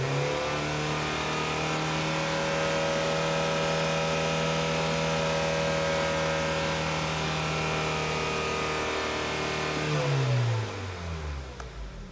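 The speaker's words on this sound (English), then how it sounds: "Let's see if we rev it up." Honda Accord engine showing a P0420 catalyst-efficiency fault, with a bad catalytic converter, held at a steady high rev for about ten seconds and then dropping quickly back toward idle. It is close and loud, with no talk.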